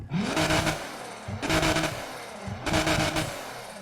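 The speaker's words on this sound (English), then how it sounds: "You can actually hear the exhaust air leaving the exhaust, the engine air leaving the exhaust" Exhaust of a tuned car in Need for Speed Heat, revving in three loud, close bursts with crackling pops between them and no talking.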